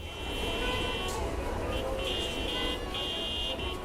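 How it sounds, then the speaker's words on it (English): Car and vehicle horn sound effects layered into a song with brass, synths and strings: sustained horn-like tones blare repeatedly over a dense, loud musical backing. "It's also much more reliant on sound effects like cars and horns."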